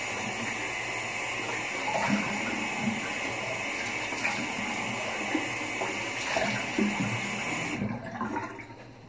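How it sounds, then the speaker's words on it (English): Tap water runs steadily from a faucet for a cold rinse after a shave, a continuous hiss and splash at moderate level that cuts off abruptly near the end. "Go ahead and cold water rinse."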